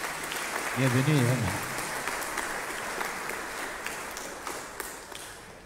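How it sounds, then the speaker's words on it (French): Church congregation applauding during a Holy Thursday service, a sustained mid-level wash of clapping that carries on beneath a speaker's brief words near the start. "on peut l'applaudir"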